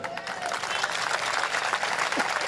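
Audience at a religious discourse clapping in a dense, continuous patter of many hands, fairly close and steady throughout.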